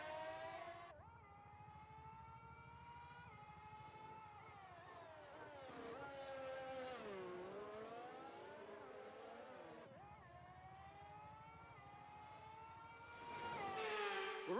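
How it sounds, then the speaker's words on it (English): Race car engines from F1 23 drone through a formation lap at the Circuit of the Americas, whining and rising and falling in pitch as the cars pass, with a louder surge near the end. "The formation lap is underway ahead of today's sprint."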